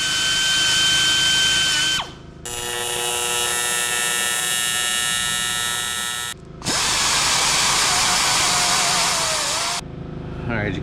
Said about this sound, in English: I'm going to grind that all down, get all the impurities out of it